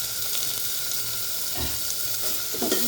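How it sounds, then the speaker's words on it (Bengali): Vegetables for a sour Sylheti curry sauté in a pan with turmeric, salt and chili powder, giving a steady close sizzle and frying hiss throughout, with a few soft stirring scrapes near the end and no talking. "ভালোভাবে কষিয়ে নিতে হবে"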